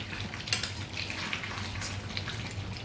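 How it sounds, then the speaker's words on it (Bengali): Chicken wings, neck and tengri sizzle steadily in a curry pan with their own released water while a spatula stirs and scrapes, giving a soft, continuous frying hiss with occasional clinks against the metal. "এখন একবার নাড়িয়ে নিচ্ছি"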